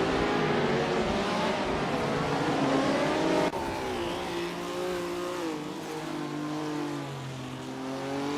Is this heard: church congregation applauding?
no